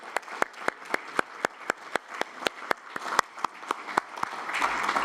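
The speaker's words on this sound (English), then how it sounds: "Maybe you can join me with applause to our presenters." An audience at an engineering meeting session applauding presenters with steady, evenly spaced claps ringing out clearly, a sparse, roughly rhythmic clapping that continues throughout.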